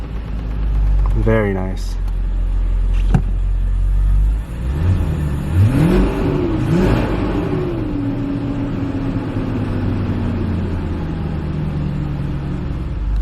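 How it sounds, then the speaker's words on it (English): Engine of a 2002 BMW 735Li (E66) sedan starting with a push-button start, then a rising rev and a steady idle rumble close by, with someone briefly speaking over it. "put your foot on the brake, and press the start button."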